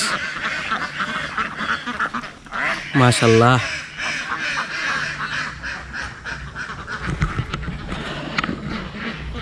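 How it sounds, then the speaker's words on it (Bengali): A flock of domestic ducks at a rural park near Dhaka quacks nearby in a short burst of loud, nasal calls, amid general outdoor bustle and people talking throughout. "এই দেখেন কি সুন্দর হাঁস"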